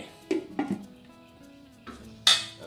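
A metal lid is set on a pot of cooking catfish curry, with several light clanks and knocks close by and a sharper clink of metal at the end.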